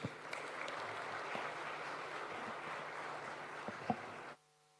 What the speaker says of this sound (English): welcome His Excellency the President to give us his vision with a round of applause